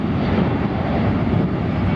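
Airliner engines roar on takeoff from a runway at San Francisco airport, a steady, loud, broad rumble that holds without a break.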